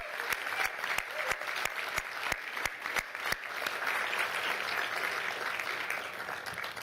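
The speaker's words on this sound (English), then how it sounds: "Let's give another round of applause to all the winners." A sustained round of audience applause for community award winners at a city state-of-the-city event fills the room, dense and steady with a few sharp, loud claps standing out near the start.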